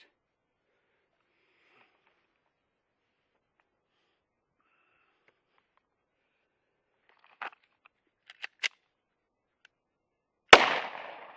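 A 10mm pistol fired outdoors on a windy ridge, a few faint clicks and handling sounds, then one loud sharp report near the end with a short decaying tail, otherwise near silence.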